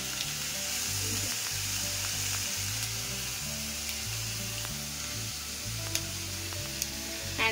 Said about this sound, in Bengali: শ্রেডেড চিকেনটা পুরো দিয়ে দিয়েছি। এটা এখন 5-10 মিনিট একটু ভাজা হবে।